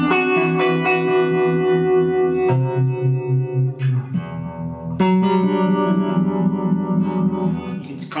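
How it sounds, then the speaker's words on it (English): Electric guitar with an ambient delay layered over a spacious effect: sustained chords and notes wash together with long echoing repeats and reverb, changing chord every second or two, loud and continuous with no voices. "if you put your ambient delay on top of that"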